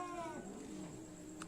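Several tomcats circling a lone female cat, one of them a handsome black Persian, let out a drawn-out yowling meow that trails off, close by and alone.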